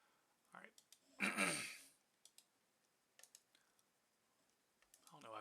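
Sparse mouse clicks on a computer while working in Citrix Provisioning Services, single sharp ticks spaced irregularly, with a breathy sigh and short vocal sounds between them in a quiet room.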